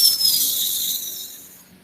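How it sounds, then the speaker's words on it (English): Slow inhalation through the nose during guided meditation, a soft airy hiss that swells then gradually fades over about two seconds, close and alone. "We're gonna breathe in through our nose."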